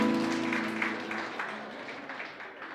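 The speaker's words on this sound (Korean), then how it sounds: "박수 부탁드리겠습니다." Wedding guests applauding in a hall, a soft, even wash of clapping under a sustained musical tone, gradually fading.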